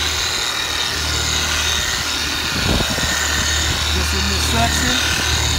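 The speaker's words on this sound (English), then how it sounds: "Now I'm going to start the polisher off on a low speed like number two." A car paint polisher runs at low speed during paint correction, a steady mechanical whir held at an even level beneath a voice.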